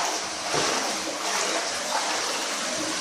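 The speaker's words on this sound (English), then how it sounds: "It's just fucking pouring over." Flood water from the 2013 Boulder flood pouring over a blocked drain, a dense, steady rushing wash of water filling the whole clip at close range without pause.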